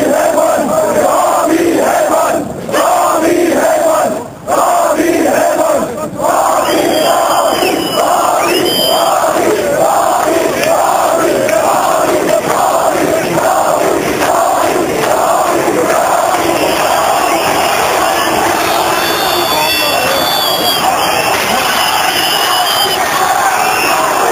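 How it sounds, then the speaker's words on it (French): A large hostile crowd gathers outside in Berlin, shouting and chanting in loud, rhythmic waves that carry on throughout and stay close and dense. "une foule hostile se masse à l'extérieur"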